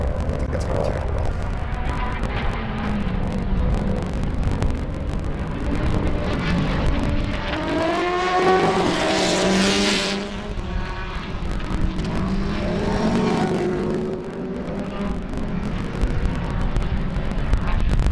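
Formula Vee race cars lap the Sebring circuit during an SCCA race weekend, with engines buzzing and droning as they rise and fall while passing, continuous and fairly loud, with no voices.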